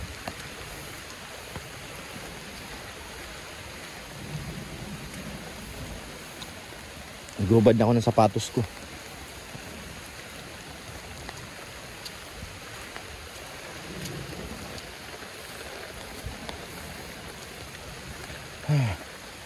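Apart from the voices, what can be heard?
heavy rain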